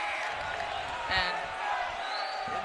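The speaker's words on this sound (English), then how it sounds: "They are letting the refs know that they do not agree with the call, as Connor Davis takes the free throws." A high school boys basketball crowd in a gym protests a referee's call, a loud wash of voices with shouts and a ball bouncing, heard under a close commentator's voice.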